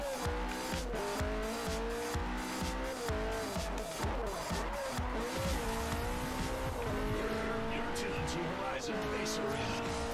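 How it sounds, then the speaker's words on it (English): A race car drifts in the Forza Horizon video game on Xbox 360, its engine revving and shifting continuously while tires squeal through the slide, loud and close, with a voice talking over it. "A little bit of drift there as well."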